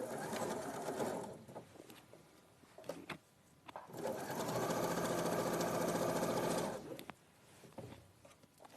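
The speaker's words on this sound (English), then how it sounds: "you'll be sewing through and securing the whole pocket then" A sewing machine stitching through a garment pocket runs in two steady mechanical bursts, the longer one in the middle, with quiet pauses between and a few clicks, close by and alone.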